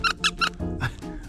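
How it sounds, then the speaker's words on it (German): A squeaky rubber pet toy shaped like a beer bottle gives several sharp, loud squeaks in quick succession, close up, followed by softer squeezed squeals. "Eine Bierflasche, die quietscht, warum nicht?"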